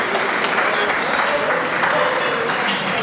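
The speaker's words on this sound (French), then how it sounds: "on les applaudit très fort" Steady, loud applause from a sizable crowd, continuous clapping throughout with a faint voice underneath.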